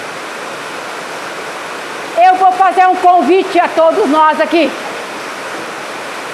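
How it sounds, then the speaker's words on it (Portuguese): Steady rainfall makes an even, rushing hiss throughout, while a voice speaks for a few seconds in the middle over the rain. "Vamos ouvir o barulho da chuva."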